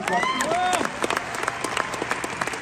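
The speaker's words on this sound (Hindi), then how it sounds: "एक बार दोबारा तालियां मारना प्लीज" An audience at a testimony event claps briefly, scattered distinct claps following a moment of cheering voices near the start, then thinning into sparse individual hand claps.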